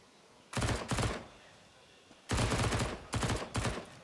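MP9 submachine gun fire in Counter-Strike during a pro match on Overpass, four or five loud rapid bursts separated by short gaps, close and dominant.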